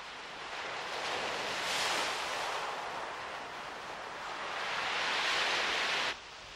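Sea waves wash against giant limestone rocks off Punta di Tragara on Capri, a steady roar of surf that swells and recedes twice, with no voices.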